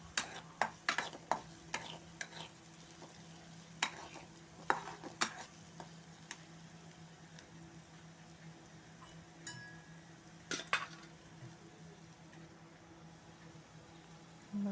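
Spoon stirring a sugar and spice tadka mixture in a pan, scattered sharp scrapes and clinks clustered early and again near the end, over a faint steady sizzle, fairly quiet and close.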